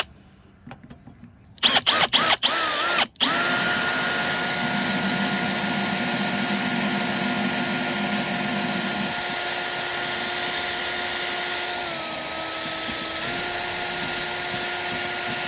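A power drill works on a storage-unit soda machine, starting with a few short bursts, then running as a loud continuous whine that shifts pitch slightly partway through.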